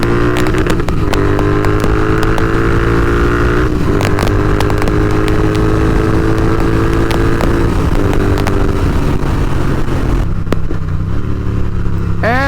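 Loud, close exhaust of a Royal Enfield Interceptor 650 riding through downshifts, the engine note rising and falling with repeated sharp pops and crackles from the pipe, no talking.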